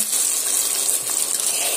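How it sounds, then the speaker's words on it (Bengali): Water pours steadily into a pan of fried rui fish and eggplant with a broad hissing gush, continuous and close for the whole stretch, with no talking. "এবার আমি এখানে দিয়ে দেব অল্প একটু পানি।"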